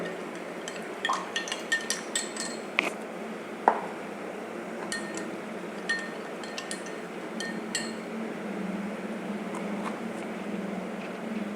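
A spoon stirs custard powder into cold milk in a glass or bowl, giving a run of light metallic clinks and scrapes, close and fairly quiet, with a faint steady hum underneath and no talking.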